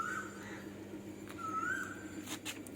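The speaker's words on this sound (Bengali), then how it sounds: "আবার এদিকে কোকিল ডাকছে বাবা" An Asian koel calls from some distance, giving two faint, rising whistled notes with a pause between them over steady low background hum.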